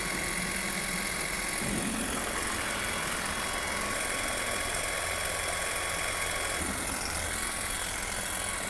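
A Stihl HSA 26 battery hedge trimmer runs nonstop with its trigger held down, giving a loud, even mechanical whir and buzz close by with no breaks and no voices.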